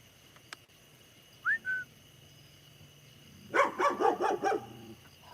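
A dog barks in a quick burst of five or six sharp, fairly close barks near the end, preceded by a short rising whistle-like call and a faint click, over a quiet outdoor background.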